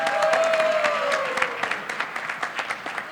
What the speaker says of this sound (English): I think she deserves a very big applause.